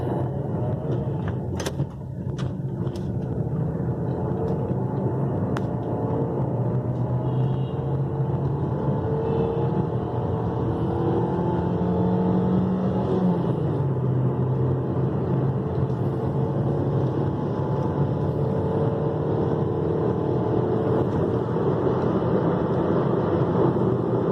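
A Maruti Suzuki Ciaz is driving on CNG gas from a newly installed kit, with a steady engine hum and road rumble heard from inside the car. It holds constant and even for over twenty seconds, with a faint click near the start.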